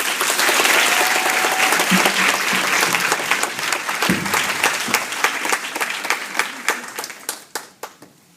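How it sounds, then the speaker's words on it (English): Applause from an audience at a book launch speech in Botswana, a full roar of clapping that gradually thins to a few scattered, separate claps before fading out. "please can we give her a big round of applause"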